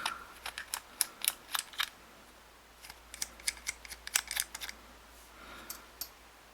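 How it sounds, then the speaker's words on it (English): Small screws are undone from the crown side plate of an Abu 6500 fishing reel, a series of quiet, sharp metallic clicks and ticks in irregular bursts against a faint, hushed background. "Now, undo the 3 main crown screws."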